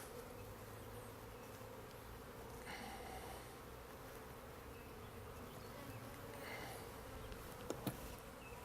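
Honeybees at an opened backyard hive buzz in a dense, continuous drone, agitated by smoke from a beekeeper's smoker; the hum is soft and steady, with a couple of faint clicks near the end.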